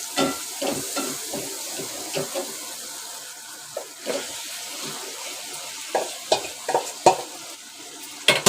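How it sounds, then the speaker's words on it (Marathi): Irregular scraping and clinking of a spoon stirring chicken in a pan for dry Malvani-style chicken, cooked without water, with a soft sizzle underneath and scattered louder knocks. "चिकन चांगलं ढवळून घ्यायचं."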